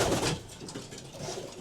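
Young racing pigeons in a loft give soft, low cooing calls nearby, a few muffled coos over the short stretch with light background rustle.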